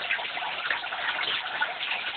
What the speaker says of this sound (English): So that's all aerating as it's going into the water.